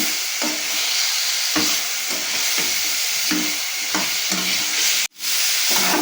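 Potatoes and drumstick stems being sautéed with salt and turmeric powder in a pan, continuous loud frying sizzle broken by rhythmic scraping strokes of a spatula, close up, one brief dropout near the end, no voices.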